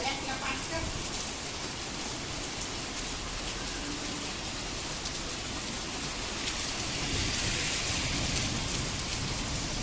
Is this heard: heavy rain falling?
yes